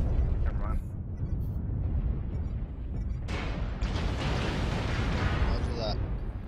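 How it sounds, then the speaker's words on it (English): Airstrike explosions in a naval battle game rumble on continuously as heavy, booming blasts, with a fresh burst around the middle; a voice talks over the din. "Airstrike."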